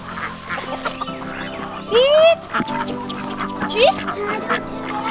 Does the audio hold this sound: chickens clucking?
yes